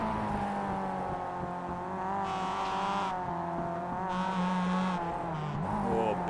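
A race car slides through tight corners at Virginia International Raceway South in iRacing, its engine droning steadily while a sustained tire squeal rises and falls across the slide, with no one speaking.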